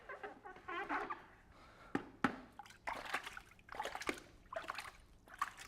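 Water drips and trickles from a Flex Tape patch during a leak test, a run of irregular splashy spatters and dribbles, fairly close and alone.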